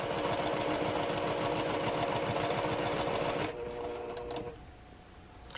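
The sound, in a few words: sewing machine stitching along a line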